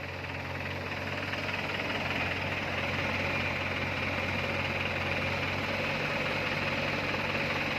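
A JCB 3DX backhoe loader and Mahindra tractor run while soil is loaded, making a steady, continuous diesel drone with a rumbling low throb and no breaks.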